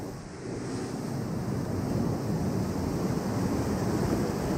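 Big ocean waves surging close by in strong wind, a continuous loud wash of surf and gusty buffeting with no distinct breaks.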